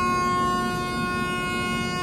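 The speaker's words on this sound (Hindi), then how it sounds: "अब देखिए सायरन हो गया" A steady, sustained siren tone holds throughout, loud and unbroken, at New Delhi railway station as a Vande Bharat train departs, with a low rumbling background of the busy station.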